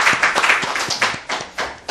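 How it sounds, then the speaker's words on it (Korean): Near, distinct hand claps from an audience at a Seoul education superintendent candidates' forum fall in a loose, uneven rhythm of separate claps for about two seconds. "다시 한번 뜨거운 박수를"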